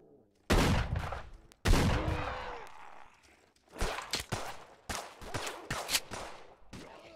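Two loud gunshots from the video game Stalker Online ring out close together, followed by a burst of rapid shots and scattered impacts, with no talking.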